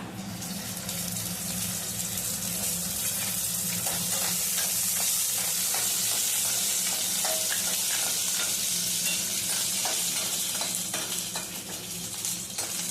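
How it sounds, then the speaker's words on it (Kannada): Green chillies frying in oil in a pan for a traditional buttermilk rasam, a steady loud sizzle with crackling and stirring scrapes throughout. "ಒಂದೊಂದಾಗಿ ಫ್ರೈ ಮಾಡ್ಕೊಳ್ಳೋಣ. ಮೊದಲಿಗೆ ಹಸಿ ಮೆಣಸಿನ್ಕಾಯಿ ಹಾಕೊಳ್ಳೋಣ."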